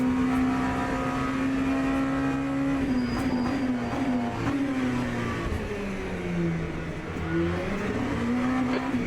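Race car engine in the Le Mans Ultimate sim racing game, a loud continuous whine that climbs and drops through gear changes while braking hard into a corner, with brief tire squeal from locked wheels and no voices over it.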